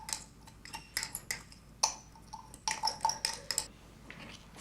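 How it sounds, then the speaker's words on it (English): A glass rod stirs a powdery mixture of barium hydroxide and ammonium nitrate (2:1) in a glass beaker, giving a string of light, irregular clinks and taps at close range with no talking. "Stir the mixtures"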